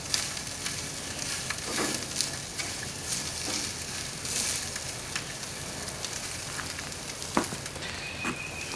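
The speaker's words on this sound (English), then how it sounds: "grilling a couple of good steaks on a pretty evening" Steaks sizzle on a grill on an evening outdoors, a steady close frying hiss with scattered pops and crackles, and a few sharper snaps spread through the clip. No one speaks.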